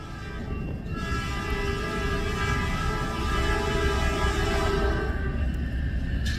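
A Canadian National northbound freight train of 460 axles, led by a rebuilt C6M locomotive, rolls steadily past at Ladysmith, Wisconsin in winter, a loud continuous rumble of wheels and cars with metallic squeal tones throughout.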